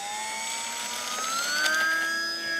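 The engine of a Pitts Special S-1S model plane throttles up on its first flight. It makes a loud, high, steady whine that climbs in pitch as it revs, heard up close with no talk.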